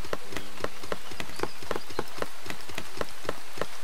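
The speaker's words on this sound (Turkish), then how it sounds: "Aa yağmur yağıyor. Yağmur sesi geliyor, yağmur yok." Rain in the Starbound video game: a dense, loud hiss with a steady rhythm of sharp droplet-like impacts, heard alone with no talking.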